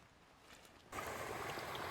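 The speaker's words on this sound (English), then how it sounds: "All this fresh, mostly clean water running everywhere at a time of the year when we don't really need it." Fresh rainwater running over ground, a quiet hiss that jumps suddenly to a louder, broader steady rush partway through.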